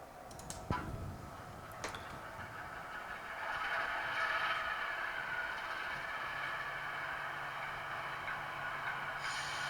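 A small model class 08 shunter locomotive hums and whirs along its model railway track, quiet and close, with a couple of sharp clicks near the start.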